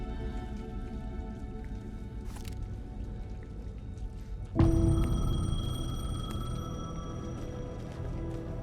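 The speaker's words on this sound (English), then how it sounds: "The payphone was ringing." In the video game Alan Wake 2, under steady background noise, a payphone suddenly begins ringing with a bright, sustained electronic bell tone that carries on.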